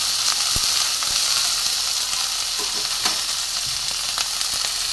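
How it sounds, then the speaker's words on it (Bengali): Vegetables fry in hot oil in a pan until browned, producing a steady close sizzle with occasional stirring scrapes and light clicks of a utensil. "একটু ভালো করে ভেজে নেব, লাল করে।"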